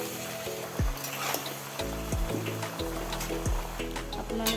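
Pork with lai mustard leaves sizzles in a hot pan while being stirred, with soft scraping and periodic thuds of the utensil over a steady background hum.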